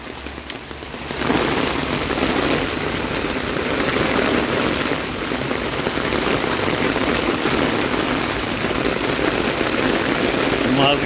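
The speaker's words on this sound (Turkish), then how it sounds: "Dolu yağıyor." Hail and rain fall hard on a street in Keçiören during a downpour, a thick, constant hiss of pattering impacts that swells after the first second and carries on evenly throughout.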